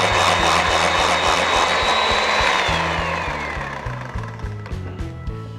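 An electric mixer beats butter for lapis legit cake, a loud, steady close-up whirring that slowly winds down toward the end, where a low rhythmic thumping comes through. No one speaks.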